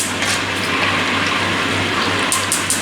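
Frozen chips frying in hot liquid fat, a steady broadband hiss and bubbling held at an even level throughout, with a low hum underneath and a few brighter crackles near the end.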